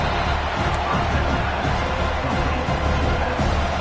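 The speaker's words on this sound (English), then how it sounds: "The roar of the crowd trying to fuel this defense to keep them pinned in their own end." A stadium crowd at a Penn State versus Texas A&M college football game roars in a steady, dense wash of noise that holds at full level throughout, with no individual voices standing out.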